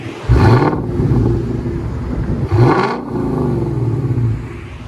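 A Ford Mustang GT with the 5.0L Coyote V8 and a loud aftermarket exhaust revs twice up close, each deep, rumbling surge rising sharply and then settling back to a throaty idle.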